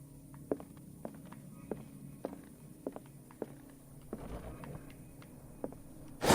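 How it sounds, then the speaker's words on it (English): Footsteps sound effect during a tabletop horror role-playing session: a steady series of soft, evenly spaced thuds, roughly two per second, heard alone against quiet room tone with a brief shuffle near the end. "Ooh, footsteps."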